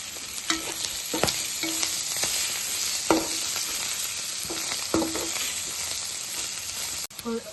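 Chicken masala fry with curry leaves and coriander stirred in a hot pan, giving a steady sizzle broken by several sharp spoon scrapes and knocks against the pan.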